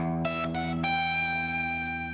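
Sustained chord with several picked electric guitar notes plucked over it, a few sharp attacks early, then ringing tones fading slowly.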